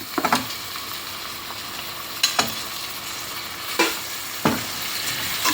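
Tomatoes sautéing with ginger garlic paste in a pan for chana biryani, a constant close sizzle broken by a few sharp spatula scrapes and clacks spaced a second or two apart.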